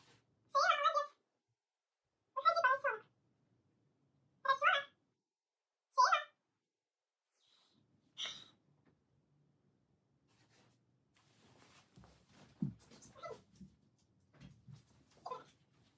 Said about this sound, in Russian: пока моя кошка сходит в туалет.